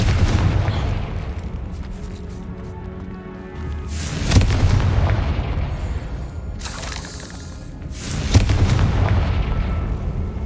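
Explosive spell blasts in the Hogwarts Legacy video game: booming detonations around 4 and 8 seconds over a dense, continuous rumble of game effects and debris, loud and close.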